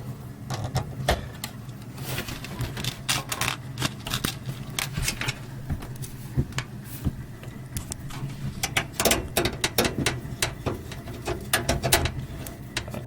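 Screws being driven into a budget AMD Micro-ATX gaming PC case click and ratchet in rapid irregular bursts, close and fairly steady, with scraping metal handling throughout.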